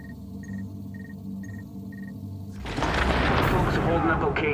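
A grenade in the video game The Division goes off in a sudden loud blast after a few seconds of quiet beeping, then rumbles and crackles on to the end.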